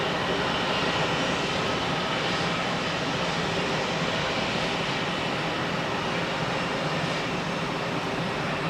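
An airliner arrived from Athens rolls out after landing at Zurich Airport, giving a steady, moderately loud engine rumble that holds evenly throughout with no voices.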